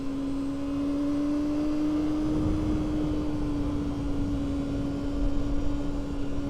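Honda CBR250RR motorcycle engine while riding, a steady high-pitched whine holding a constant rev range, with wind and road rumble underneath and no talk.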